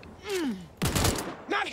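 Gunfire bursts in the Cyberpunk 2077 video game, a couple of loud broadband cracks and rattles alongside a descending groan-like voice sound, short and close.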